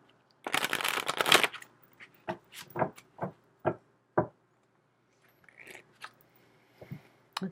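Ascended Master oracle cards by Doreen Virtue are riffled in one brisk shuffle, then tapped and squared in a run of separate close, crisp knocks against a quiet background.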